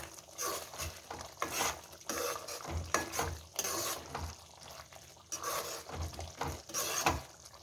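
A spoon stirs fried vathal into a thick garlic tamarind kuzhambu in a pan, giving repeated wet scraping strokes over a soft simmering sizzle, close and fairly steady, with no talking.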